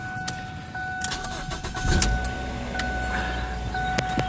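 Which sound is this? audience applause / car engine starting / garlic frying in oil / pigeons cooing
car engine starting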